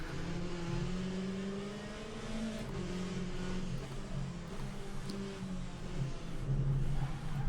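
Aston race car in Le Mans Ultimate, its engine droning and shifting pitch through a slide, steady and moderately loud with revs rising toward the end.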